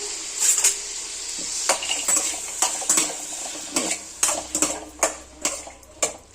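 Almonds fry in a pan while being stirred, with a series of sharp metallic clinks and taps from the spoon against the pan over a faint sizzle, in an irregular rhythm that grows busier toward the end.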